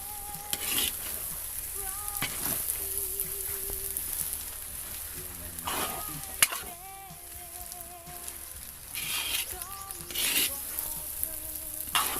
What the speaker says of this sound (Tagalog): malapit ang maluto ang ating pancit canton